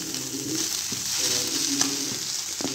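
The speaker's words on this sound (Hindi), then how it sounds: "आलू परत की फ्राई है ये" Sliced potatoes frying in a home kitchen pan give a steady, close sizzle with a few light stirring clicks, and no one speaks.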